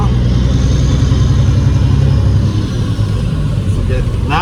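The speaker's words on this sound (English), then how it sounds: "Now you can actually hear the turbo sucking in here." Peterbilt 379 truck with a CAT 3406B diesel running a new turbo, a loud rumbling engine idling up close, with someone talking over the top and a faint whistle toward the end.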